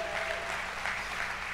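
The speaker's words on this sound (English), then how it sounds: "Give yourselves a round of applause." Applause from a church congregation at a Wednesday night service fills the whole moment, a steady even wash of many hands clapping at moderate loudness with no break.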